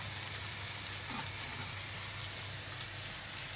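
Quartered cherry tomatoes, some of them yellow, fry in a hot pan with steady, dense sizzling that holds at an even level throughout and is not broken by any voice.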